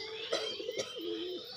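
A female pigeon coos at a friend's house in a few soft, rounded, throaty calls, the last one drawn out, heard close and alone with faint background hiss.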